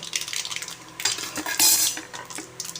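Onion, curry leaves and crushed garlic being sautéed in a pan for an ivy gourd fry, heard as steady scraping and clinking of a spoon against the pan with a soft sizzle, louder around the middle, no talking.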